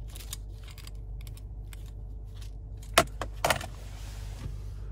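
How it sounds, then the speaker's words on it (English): A BMW M550i key fob is handled inside the car, giving faint metallic jangles and a few sharp clicks over a low steady hum. "there's your key fob"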